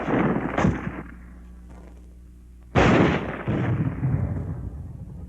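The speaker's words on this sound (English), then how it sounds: "At ranges up to 200 yards, armor-piercing ammunition can smash through this kind of wall any time, any day." Armor-piercing ammunition fired at a wall, WWII infantry weapons: two loud, sharp impact bangs about two seconds apart, each followed by a rumbling crash and decaying debris noise, with no talking.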